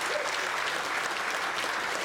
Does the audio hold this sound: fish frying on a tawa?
no